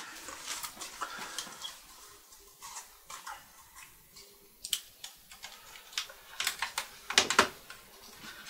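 A laptop keyboard is fitted back onto a Lenovo ThinkPad T530, with close, irregular plastic clicks, taps and snaps scattered throughout.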